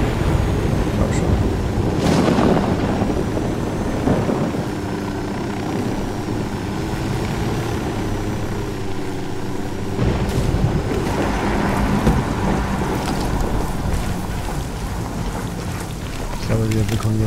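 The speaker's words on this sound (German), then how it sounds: "Drohne fliegt." A drone flies in the Ghost Recon Wildlands video game, giving a steady rotor drone that holds throughout under louder in-game rumble and effects, with a voice speaking over it.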